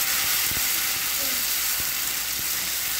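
Ground onion and dried chili frying in hot oil in a wok, a steady loud sizzle with a few soft scraping knocks from stirring, close up and without speech.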